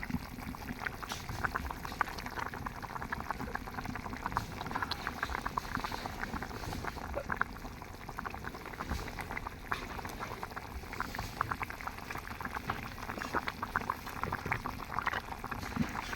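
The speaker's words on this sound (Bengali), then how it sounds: "মাছটাও বলক উঠে গেছে" Silver carp curry cooked with tomato bubbling at a boil in a pot, a dense, steady stream of small pops and gurgles that goes on for the whole stretch at moderate volume, with no talking.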